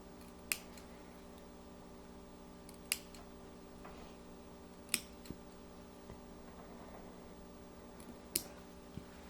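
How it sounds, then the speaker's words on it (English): Scissors snip into fabric seam allowance during needle-turn appliqué, a handful of sharp isolated clicks spaced a few seconds apart over a steady quiet background hum. "We're just going to snip, I would say, about every 1/4 of an inch."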